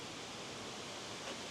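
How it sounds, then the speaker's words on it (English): A waterfall at St Nectan's Glen gives off a steady, even rush of falling water, a constant broadband hiss with no breaks and no voices. "There is another set of waterfalls just here too, which are quite cool."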